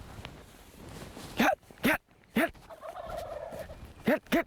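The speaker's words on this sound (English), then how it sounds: "Oh, they're gonna peck my bird to death." Wild turkeys gobbling during a spring hunt: several loud, close gobbles come in short bursts with gaps between them, over quiet outdoor background.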